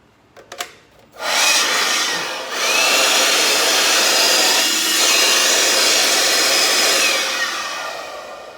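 A Milwaukee high-volume inflator blows air in a loud, steady broadband rush that starts after a few brief clicks and continues strongly to the end.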